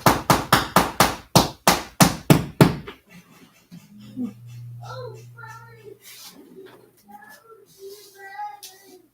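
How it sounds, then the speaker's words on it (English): About a dozen loud, evenly spaced hammer strikes ring out in quick succession as something is hung up indoors, then stop. A person starts talking afterward. "Yes, I'm using the hammer"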